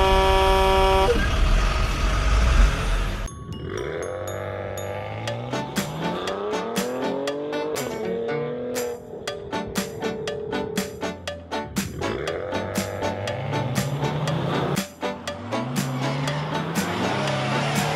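Cartoon purple cleaning truck from Super Games 2.0 driving along to bright game music, with a honk-like opening, rising and falling engine tones and rapid clicking effects.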